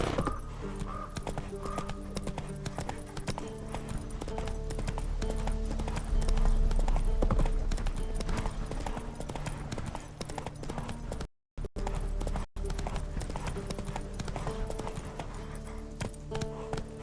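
A horse gallops in the video game The Witcher 3, its hooves making steady rhythmic clip-clops over a low ambient game background, with a brief dropout of sound partway through.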